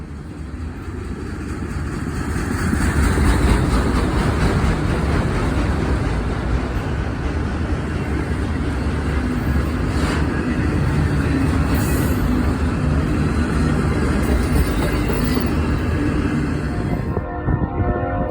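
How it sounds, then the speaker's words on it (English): CSX I-168, an intermodal freight train of racks and containers, rumbles through Fostoria, Ohio, as a loud, continuous low roar of wheels and cars that swells in the first seconds and holds steady close by. "rumble through the city of Fostoria would be CSX I-168, which comes out of Chicago, Illinois' 59th Street Yard and terminates in Port Newark, New Jersey"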